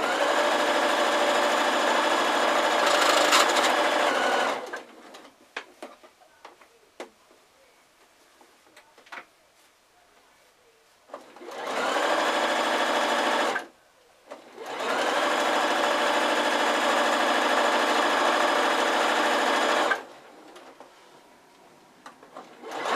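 Sewing machine stitching a drawstring Christmas sack, three bursts of close, loud, steady whirring separated by quiet pauses filled with faint handling of fabric.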